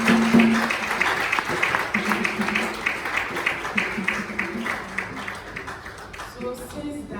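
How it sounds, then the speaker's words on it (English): A church congregation claps hands in praise after a healing testimony, a steady run of rhythmic claps mixed with voices and background singing, fairly loud and close throughout. "Clap your hands for Jesus."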